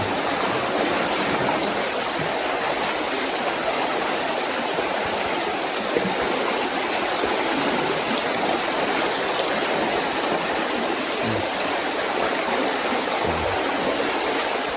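River flowing at its end in a rocky rainforest setting, a steady broadband rush of water that holds evenly throughout, fairly close, with no speech.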